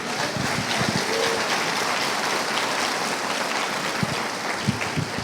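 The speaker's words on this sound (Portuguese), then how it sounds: "Quem pode aplaudir Jesus?" A church congregation applauds, a dense, continuous clapping that fills the whole clip at moderate loudness.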